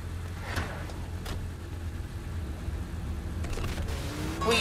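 A car engine hums at a low, steady drone while driving in the Saints Row IV video game, with a few brief louder rushes near the start and end and no speech over it.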